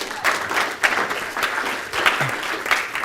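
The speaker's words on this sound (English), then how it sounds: "Give yourselves a round of applause for being here tonight." An audience at a live motivational talk applauds with sustained, dense clapping that carries through the whole stretch at an even, fairly loud level.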